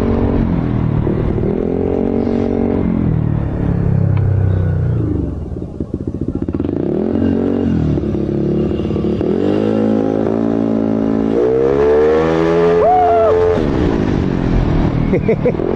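A Yamaha Aerox motorcycle with a 232 build engine runs steadily throughout, its pitch rising and falling as it revs, with a voice talking over it at times.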